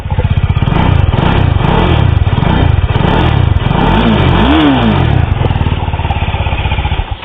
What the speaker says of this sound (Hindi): ये इसका एग्जॉस्ट साउंड है।